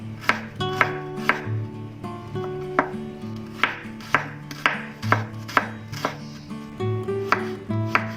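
A knife slices chili peppers on a cutting board in a steady series of about a dozen crisp, close chops, spaced roughly half a second apart.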